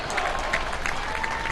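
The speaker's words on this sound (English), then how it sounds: "you notice the applause starts to pick up as soon as you start seeing military members" Parade crowd along a 4th of July route in Bristol applauding as a Naval Color Guard passes, a steady moderate spread of clapping heard from a little distance.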